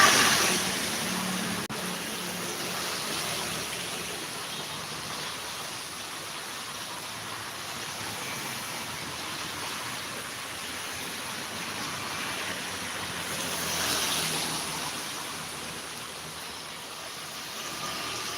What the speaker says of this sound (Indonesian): Masih hujan, masih hujan.